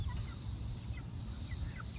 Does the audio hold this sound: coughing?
no